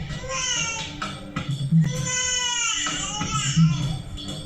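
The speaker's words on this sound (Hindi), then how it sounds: "ये तो बच्चे की रोने की आवाज है ना?" A baby wails loudly and close by in long, rising cries with brief gasps between them.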